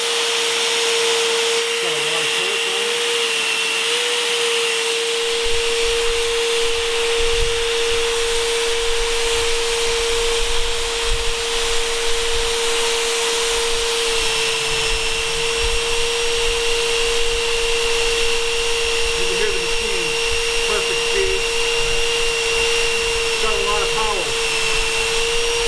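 A Fein compact magnetic drill runs with a steady, loud motor whine throughout, cranked up while boring a small hole with a rapid-style cutter; a faint voice comes through underneath.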